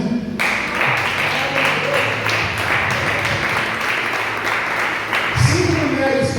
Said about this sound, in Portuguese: Eu acho que merecia um aplauso,